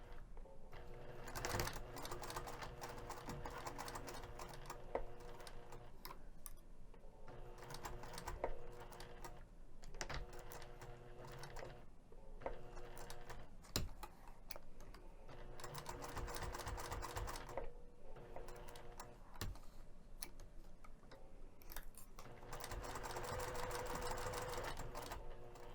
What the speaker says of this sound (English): I'm going to take this over to the sewing machine and sew the entire outer edge